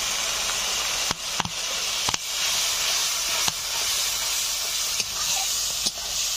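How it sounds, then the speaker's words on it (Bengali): Ground spices fried in oil over low heat for a Bangladeshi-style chicken and potato curry, a steady soft hiss and sizzle with occasional sharp clicks of stirring, alone without talk. "ভালো করে অল্প আঁচে মশলা কষে নেব"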